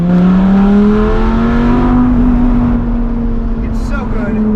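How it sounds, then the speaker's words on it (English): A Lamborghini Gallardo V10 engine with a Larini aftermarket exhaust revs loudly and climbs in pitch with a deep, droning exhaust note, holding strong before easing slightly, close by. "The sound of a V10 is impossible to beat"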